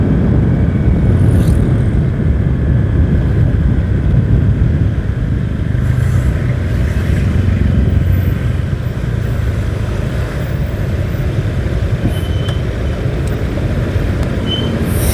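A Honda Vario 125 scooter accelerates on the road, a steady loud engine drone blended with wind and road roar that rises slightly as it pulls.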